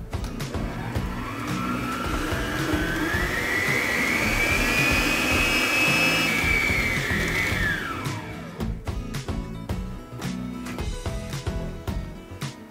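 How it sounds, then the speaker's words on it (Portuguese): An electric stand mixer beats a Ninho powdered-milk mousse with pineapple and cream, giving a loud, steady motor whine that climbs in pitch, cuts off after about eight seconds, then gives way to scattered clatter and knocks. "Aí agora a gente vai bater por mais ou menos 5 minutos na batedeira novamente"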